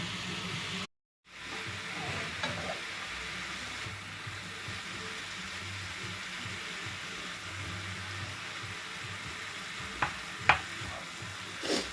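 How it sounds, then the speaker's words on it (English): Lasagna filling of mince and spinach sizzling and frying in a pan while being stirred, a steady close hiss with scrapes and clinks of the spoon, a brief gap near the start, no voices. "Just want to let this all fry down together, and so everything, you know, comes together, and so the spinach can reduce down a little bit as well"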